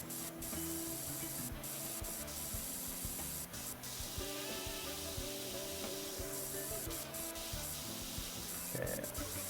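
A steady pressure-washer spray from the PowerWash Simulator video game hisses continuously while a dinosaur figure is cleaned, its pitch shifting slightly as the jet moves, with occasional faint clicks and low mumbled talk underneath.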